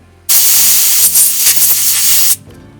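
A continuous loud spray hisses for about two seconds as cleaner is blasted onto a Citroën C5 fuel injector to decarbonize it, starting and stopping abruptly with slight pulsing.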